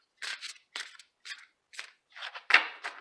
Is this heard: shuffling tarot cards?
yes